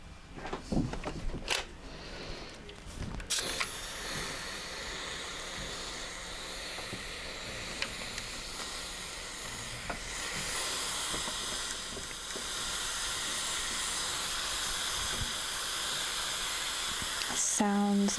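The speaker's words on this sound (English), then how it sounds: "Sounds of the steam rolling through." A steam iron passes over fabric seams, giving a soft, continuous hiss that swells slightly in places, with a few sharp clicks and knocks at the start.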